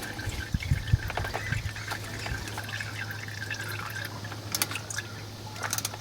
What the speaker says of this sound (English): And we're gonna just let that drain